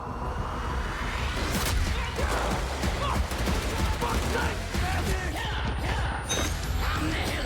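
Rapid shotgun blasts from a first-person shooter video game ring out in close-quarters combat, dense bursts of sharp shots and crashes layered over steady game noise, with a voice talking at times.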